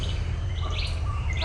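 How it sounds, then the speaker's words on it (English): Tropical birds from a stock sound-effect library: scattered high chirps and calls over a steady low ambient bed, continuous for the short span. "let's listen to tropical birds"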